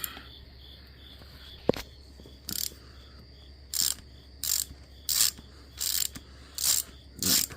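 A ratchet clicks in short repeated bursts, about seven of them in steady rhythm, after a single sharp knock, while removing an 8mm Allen plug from the side of an LS engine block in an S10 truck.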